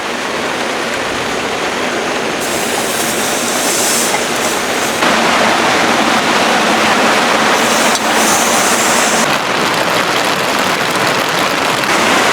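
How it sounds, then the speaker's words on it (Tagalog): Heavy rain and strong wind lash a campsite tent during a monsoon storm, a loud, dense, steady roar with gusts surging and easing throughout. "Lakas ng hangin sa ulan, tignan nyo."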